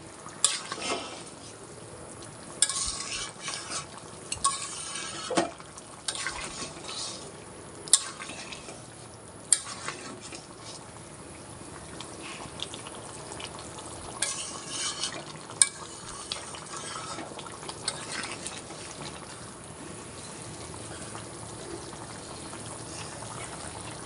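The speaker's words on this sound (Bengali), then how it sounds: "এখানে একটু ভালোভাবে নেড়ে দেবো" Desi chicken curry being stirred in a pan, an intermittent scraping and clattering of the spoon against the pan over a faint, low bubbling, heard alone without talk.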